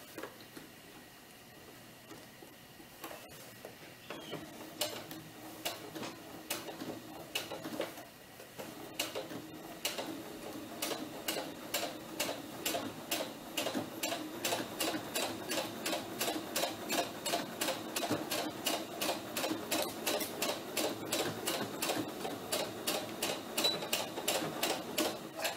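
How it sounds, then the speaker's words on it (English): A home sewing machine runs a straight stitch down the side seam of a doll T-shirt. It whirs steadily with a fast, even clicking of the needle that starts after a few seconds and continues unbroken to the end. "I'm just going to go straight down the side"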